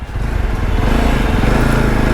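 A 2025 Jawa Bobber motorcycle engine runs close by with a steady, throaty putter as the bike rolls along.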